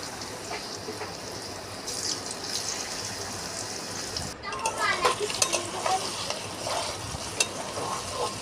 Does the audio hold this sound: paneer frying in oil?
yes